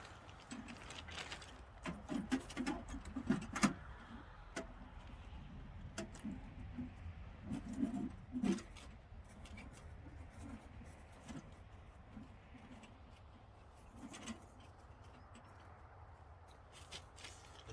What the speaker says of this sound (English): So we're just going to assemble this.